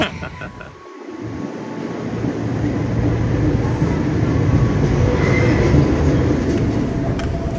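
A commuter train arrives at Depok Baru station, its loud, steady rumble of wheels and cars building and then holding, heard from on board or close by.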